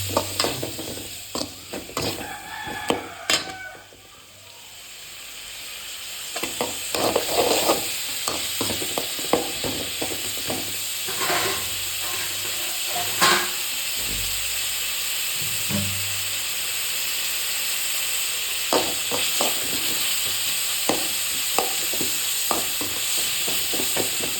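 Onions, white pepper and tomatoes sautéing in a pan for dried fish curry: a steady hiss of frying broken by repeated scraping and clacking of a spoon stirring, with no voices.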